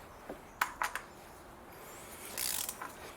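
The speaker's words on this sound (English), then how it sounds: "And then we can use our ratchet" A ratchet tightening the oil filter housing cap on a Mercedes C180 W204, heard as a few quiet, scattered clicks and a brief burst of faster clicking, close up with no talking.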